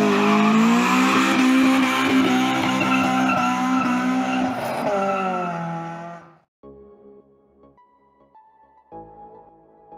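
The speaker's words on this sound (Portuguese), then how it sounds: "quis deixar o carro ligado" A Honda Civic EJ9 engine runs loud with a strong tonal whine for about six seconds, then cuts off abruptly, leaving quieter, intermittent mechanical sounds.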